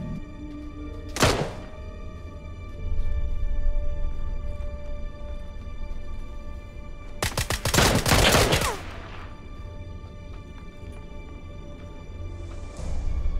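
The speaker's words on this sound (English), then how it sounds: "Oh crap, I'm getting shot in the back." Gunfire in the battle royale game PUBG: a single sharp shot early on, then a dense burst of rapid automatic fire, with a quieter crack at the end over a low constant game hum, with no talk.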